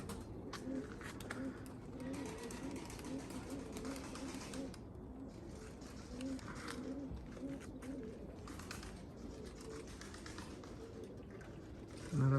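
Young, newly fledged pigeons coo repeatedly in low, soft, steady calls throughout, close by, with a faint rustling background.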